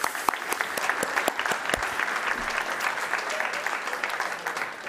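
Dense, steady applause from an audience at the Global Poker Awards 2023 in the PokerGO Studio in Las Vegas: many hands clapping close and loud, with a few sharper claps standing out, sustained for the whole stretch.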